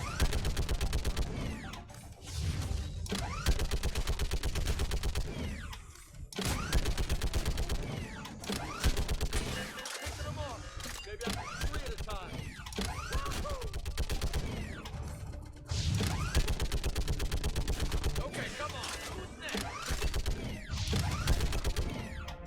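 A big mounted gun firing at a barricade against Reaper attack waves in Mass Effect 3, a long, loud, sustained stream of rapid shots with mechanical clanking, broken by a few short pauses.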